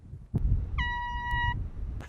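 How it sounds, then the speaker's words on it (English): A normal air horn fired outdoors from about two football fields away gives one steady, distant tonal blast lasting under a second over low background rumble. "All right, Ken, fire the normal air horn."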